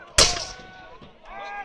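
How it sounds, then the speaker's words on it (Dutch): A single loud cannon blast booms at a reenactment of a fortress siege at Bourtange. It is sharp and close, and its rumble trails off as faint voices murmur in the background. "Er staan een heleboel kanonnen om de vesting heen, je beschiet op de vesting."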